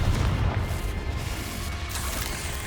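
Magical spell blasts like Bombarda and Confringo boom in Hogwarts Legacy, a heavy low explosion at the start followed by a rumbling, crackling tail that fades but lingers throughout.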